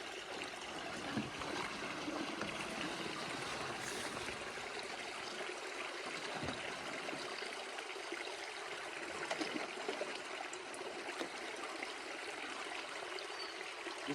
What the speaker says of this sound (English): just like that, the water's going right in